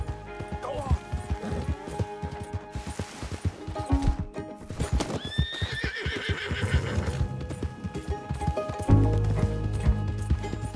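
Hooves clatter in a rapid galloping rhythm while a horse neighs loudly in Red Dead Redemption 2, with crashing thumps and game-like effects layered in.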